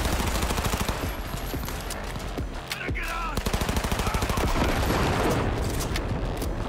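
Rapid gunfire in the video game Cyberpunk 2077, dense bursts of automatic shots rattling close and loud almost without pause, with a short lull midway and faint talk underneath.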